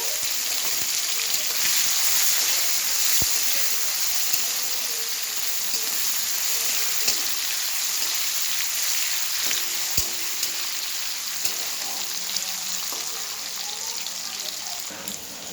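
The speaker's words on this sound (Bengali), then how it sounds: "চিংড়ি মাছটা একটু ভাজা হয়ে গেছে" Steady sizzling of shrimp frying in a hot pan, with a few sharp clinks of a utensil scattered throughout and no talking.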